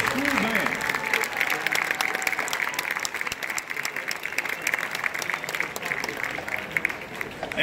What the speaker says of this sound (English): please give one more round of applause for the Geyer High School Band